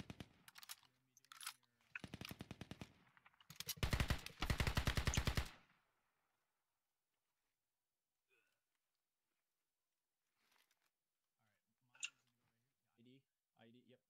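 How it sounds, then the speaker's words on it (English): Heavy automatic gunfire crackles through a Squad video game battle, loud rapid bursts for the first several seconds before dropping to near silence, with a few brief voice sounds near the end. "Still some heavy gunfire going on."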